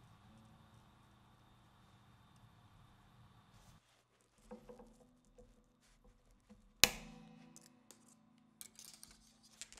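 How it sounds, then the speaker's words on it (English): Scissors snipping the excess ends off freshly installed and tuned guitar strings, a sharp clean snip standing out against quiet handling noise, with a few lighter clicks afterward. "before cutting off any excess string"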